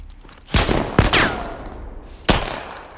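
Gunshots from the video game The Last of Us: three sharp, loud cracks with clear gaps between them, each ringing briefly, and faint background ambience between the shots.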